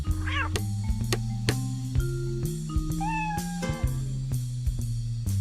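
A domestic cat gives a couple of short meows near the start and middle, set against a steady musical background with sustained low tones.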